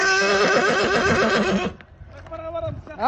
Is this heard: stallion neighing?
yes